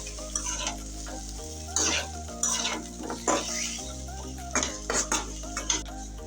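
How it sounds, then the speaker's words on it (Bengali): Potatoes stir-fried in a pan for a Bengali bitter gourd and fish dish sizzle steadily while a metal spatula scrapes and clinks against the pan in repeated bursts, close up with no talking. "এখন আমি আলুগুলো দিয়ে কষাই নেব"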